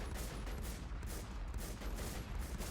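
A DMR rifle fires in a video game, its shots packed into a dense, steady rattle that is fairly faint and seems distant, continuing without a break.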